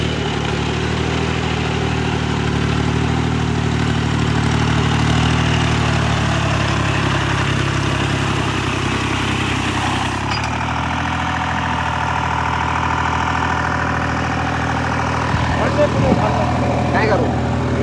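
A tractor engine idles nearby with a steady low rumbling throb that holds for the whole stretch. Its tone shifts slightly about two-thirds of the way through.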